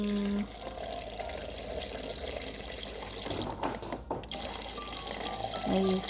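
Water pours steadily into a pot of jackfruit being cooked on a stovetop, a continuous splashing stream running close by with a brief dip midway.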